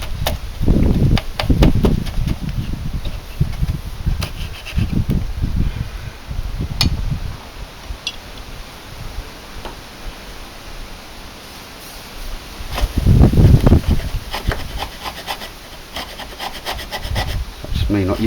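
A hand carving tool cuts into seasoned wood with repeated scraping, rasping strokes. The strokes are irregular, close and fairly loud, and they come in bursts over a steady background hiss.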